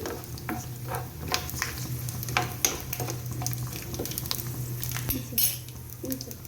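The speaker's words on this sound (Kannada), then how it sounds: "ಸ್ವಲ್ಪ ಬ್ರೌನ್ ಕಲರ್ ಬರೋ ತನಕ ಫ್ರೈ ಮಾಡ್ತೀನಿ" Ingredients for mango chitranna fry in a pan until browned, giving a soft steady sizzle broken by frequent clinks and scrapes of a spatula against the metal.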